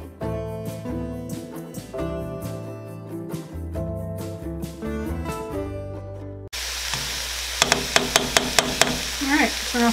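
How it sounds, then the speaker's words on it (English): Vegetables sauté in a pot for an easy vegetable soup. Music plays for the first six seconds, then a loud, bright sizzle begins, with several sharp stirring clicks and scrapes near the end. "We're going to add in all our other vegetables and again cook it for about another 2 minutes. Just saute them."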